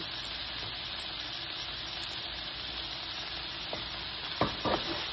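Pancit canton noodles are stirred in a hot frying pan, with a steady dense sizzle of frying throughout and a few sharper scraping strokes of the utensil near the end.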